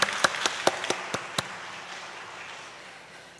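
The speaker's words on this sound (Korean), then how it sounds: "다시 한번 박수 부탁드리겠습니다." A few loud, separate claps ring out in a church after a hymn and a sign-language hymn, roughly six sharp strikes in the first second and a half, then the room fades to a quiet tail.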